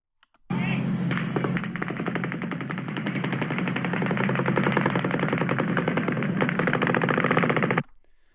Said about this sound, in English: the shots are supposedly coming from right here